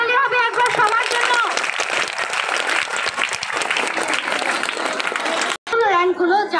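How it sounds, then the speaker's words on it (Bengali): An audience claps at a school terminal exam result announcement, loud dense clapping filling the room, with a voice speaking at the start and again after a brief cut near the end. "জোরে হাততালি হবে একবার সবার জন্য।"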